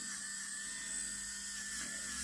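An electric nail file drill whines steadily up close as it files down base coat on nails under a coconut builder gel overlay, a continuous high buzz with a slight wavering in pitch.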